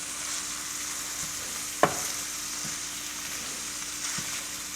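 Ground taco meat fries in a pan with a steady, close broadband sizzle, broken once by a sharp scrape or tap of a utensil and a few soft stirring knocks.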